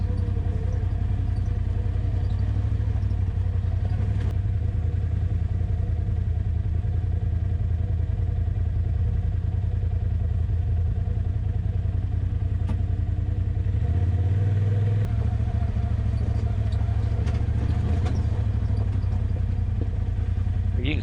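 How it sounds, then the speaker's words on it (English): A Kawasaki Mule utility vehicle drives a rough trail, its engine a steady, loud, low drone with clattering over bumps, and the engine rumble surges briefly partway through. "You can see this Kawasaki Mule is getting over the stuff fine."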